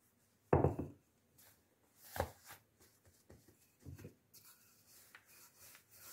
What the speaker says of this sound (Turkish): şimdi orta büyüklükteki bezemizi açmaya başlıyoruz